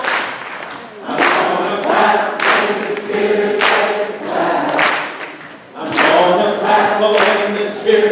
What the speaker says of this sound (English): I'm gonna clap when the Spirit says to clap